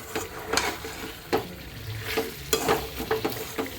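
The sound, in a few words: chicken sizzling and being stirred while frying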